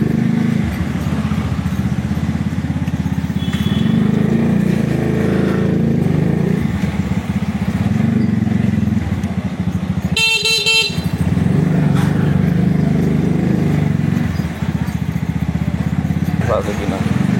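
A Zongshen 100cc motorcycle modified into a cafe racer idles with a loud, steady low engine rumble, a short horn blast sounding midway, and someone talking over it.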